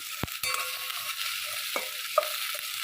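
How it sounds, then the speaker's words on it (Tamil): Okra and onion sauté in a pan for a Chettinad tamarind okra dish, giving a steady sizzle with a few sharp scrapes and clinks of a spoon against the pan, close and moderately loud. "இந்த வெங்காயத்தோடய சேர்த்து நல்லா வதக்கிக்கிறேன்"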